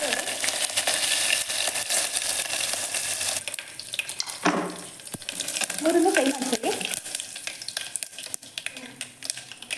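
One spoon each of mustard seeds and cumin frying in hot oil for a bitter gourd gravy, giving a steady crackling sizzle with a brief stirring clatter midway and a voice faintly speaking beneath.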